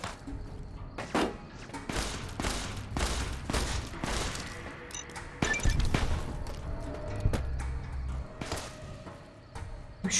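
Gunfire in Fallout: New Vegas, a scattered series of sharp shots and impacts at irregular intervals, moderately loud, with some thuds mixed in.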